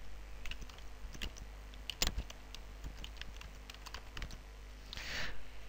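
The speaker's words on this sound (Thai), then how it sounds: "เมื่อพิมพ์คำว่าวิดีโอดาวน์โหลดเสร็จแล้วให้เรากด Enter" Typing on a computer keyboard, a light, irregular run of close key clicks with one louder burst partway through, quiet and with no voices.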